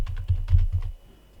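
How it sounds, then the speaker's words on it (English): Typing on a computer keyboard: a short, close burst of soft, rapid key clicks that stops after about a second. "Let me just type something here."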